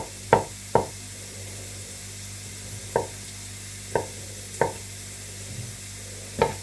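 A knife slicing halved boiled egg whites into strips on a cutting board gives six sharp, close knocks at uneven intervals over a steady low background hum.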